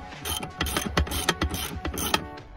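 Seat frame bolts being worked loose inside a 1993 Chevy OBS truck cab: a close burst of quick ratcheting clicks and metallic mechanism rattles, uneven in rhythm, with no talking.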